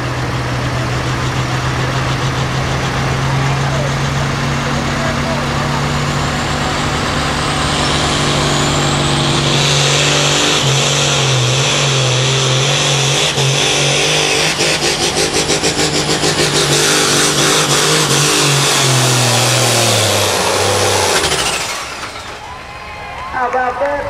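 A modified farm tractor at a tractor pull in Lanesville, Indiana, roars loud and steady for about twenty seconds, its pitch climbing and straining under load before cutting off, with a crowd and announcer audible in the background.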